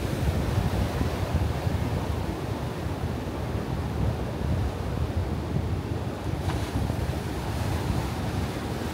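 Sea waves wash onto a beach in Vendée, a continuous loud surf roar mixed with heavy wind buffeting the microphone, with no voices.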